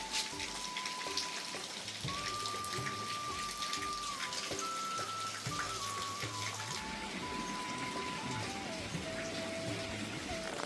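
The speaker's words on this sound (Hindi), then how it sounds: "हमारे पहाड़ों में लगातार कल शाम से बारिश लगी हुई है" Steady rain falling in the hills on a morning after a night of continuous rain, a dense hiss of drops on surfaces with a faint tonal hum running through it, no voices.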